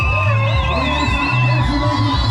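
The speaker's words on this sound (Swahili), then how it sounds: "Anapopita shangwe nyingi na vigelegele kwa Bwana Yesu." Lively crowd at a gospel church event cheering, whooping and ululating in praise as a pastor passes, with shouting voices and a steady roar throughout, loud and close.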